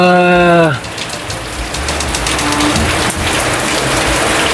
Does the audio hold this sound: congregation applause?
no